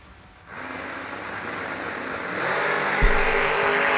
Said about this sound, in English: This is a drag race.